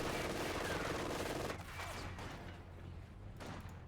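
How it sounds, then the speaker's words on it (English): Infantry rifle fire and light artillery in Company of Heroes 2, with a dense rattle of shots and rumbling blasts layered into a constant, distant-sounding battle din. "Lighter infantry shots are seen here"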